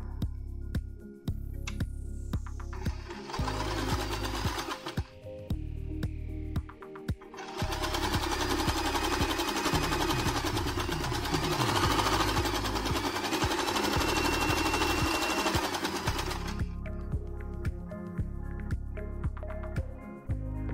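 A sewing machine stitches a square of folded fabric for a thin braided bandana headband, running in loud rapid mechanical bursts, a short run, then a longer continuous stretch, with pauses and clicks between.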